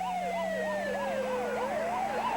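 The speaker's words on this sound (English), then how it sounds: "sends an ambulance racing through the night streets" An ambulance siren wails in a steady rising-and-falling yelp as the vehicle races through streets at night, loud and continuous over a low engine drone, with no voices.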